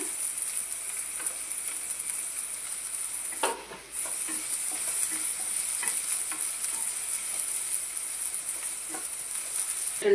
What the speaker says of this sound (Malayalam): ഉള്ളി മൂത്തിട്ടുണ്ട്.